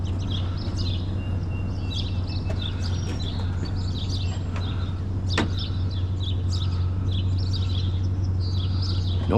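Birds chirp and tweet in quick, scattered bursts over a constant low hum, fairly close and lively throughout.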